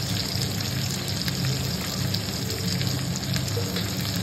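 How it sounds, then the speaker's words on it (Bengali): Masala of tomato, salt and turmeric frying in a pan for khichuri: a steady, fairly loud broadband sizzle with fine crackle throughout, no voices. "ভালো করে নেড়ে চেড়ে টমেটো নরম হওয়া পর্যন্ত মশলাটা আমি ভেজে নিচ্ছি।"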